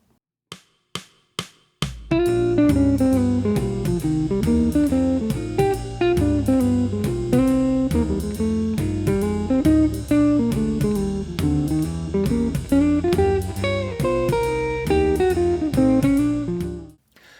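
A jazz solo over rhythm changes, a chain of fifths, opens with a few sharp hits, then runs as a busy, continuous melodic line over chords for about fifteen seconds before fading out.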